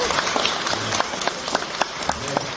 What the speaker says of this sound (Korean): 우리 큰 박수를 좀 환영해 주시겠습니까?